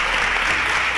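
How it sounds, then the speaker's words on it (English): Steady audience applause during a televised national science quiz competition, a dense continuous wash of clapping for the full second, loud and even with no voices over it. "A round of applause for her."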